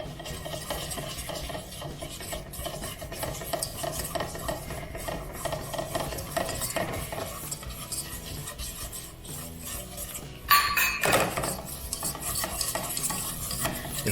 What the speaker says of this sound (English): I'll start whisking in my flour.